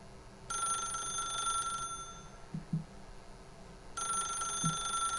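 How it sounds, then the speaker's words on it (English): An old-style telephone bell rings in The Stanley Parable, two loud sustained bursts separated by a pause, with a few low thuds like footsteps in between. "Let's just answer the phone."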